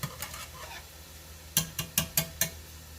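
Onions sizzling in a pan at the start of a tomato sauce, a soft crackling bed broken by a few sharp clinks and scrapes of a utensil against the pan, fairly close and with no talking.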